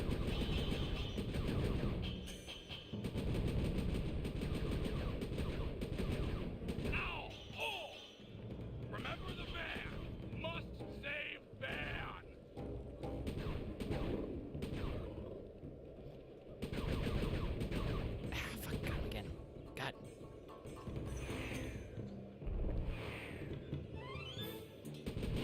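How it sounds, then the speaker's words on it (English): Turret gunfire in the video game Sly 3, loud sustained bursts of rapid automatic fire with brief pauses, a talking voice intermittently over the shooting. "This turret is very cool, but it is a very narrow field of fire."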